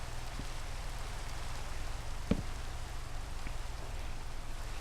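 Rain falls in the Minecraft video game as a steady, even hiss throughout, with one brief sharper tap in the middle and no talking.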